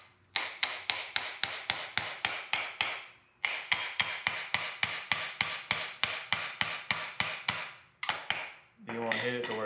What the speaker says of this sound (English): Then you just take a hammer.